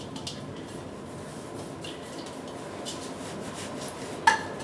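A bowl for bread dough is handled in a home kitchen while being oiled, with quiet, faint scrapes and rubs and one brief clink near the end, and no talk.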